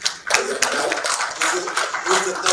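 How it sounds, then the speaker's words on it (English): Applause at a real estate awards conclave, a dense wash of clapping from the audience that swells and continues steadily throughout. "Big round of applause for"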